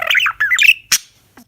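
A pet bird lets out a low growling squawk, a string of rough, close bursts followed by a sharp harsh note and a faint trailing sound.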